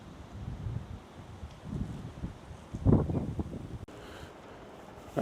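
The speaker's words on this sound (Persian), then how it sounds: "حالا من میکروفون زدم امیدوارم که این صدای باد اذیت نکنه." Wind buffeting a microphone at hilltop Greco-Roman ruins in Turkey, a low, rumbling, gusty roar that swells and fades irregularly, with one stronger gust near the middle and a brief dropout toward the end.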